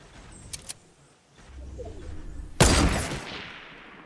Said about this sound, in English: Hit him with the sniper shot.